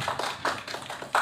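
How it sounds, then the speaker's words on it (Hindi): Audience at a film press conference claps in a few loud, uneven bursts, close and brief, with no talking over it. "जोरदार तालियों के साथ"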